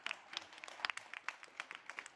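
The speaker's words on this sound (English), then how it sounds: "I need another applause for all of you," Sparse audience applause at an IBM iX livestream event, a handful of separate claps spaced out and fairly faint, with no talking over them.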